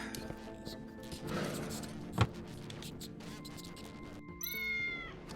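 A cat meowing in the video game Tales of the Neon Sea: a short bright meow near the end, set against quiet game music and ambient tones, with a brief thud earlier.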